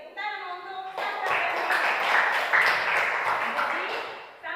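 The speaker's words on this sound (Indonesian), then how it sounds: "Oke, tepuk tangan untuk Sandra." A voice speaks briefly, then a small group at a teachers' coaching session claps in a short, even burst that lasts several seconds and fades at the end.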